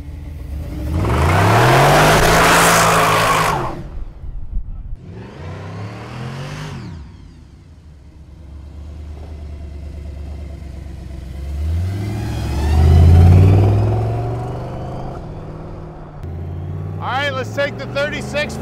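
A 1936 Ford Cabriolet custom street rod with a manual valve body drives off, its engine revving up and easing through shifts in loud swells, heard from inside the car with occasional talk over it.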